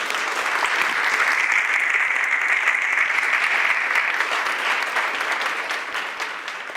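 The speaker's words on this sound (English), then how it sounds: "So please give them a round of applause" Dinner audience at a city diversity event applauding sponsors, a dense, sustained wash of clapping from a sizable crowd, loud and steady before tapering slightly at the end.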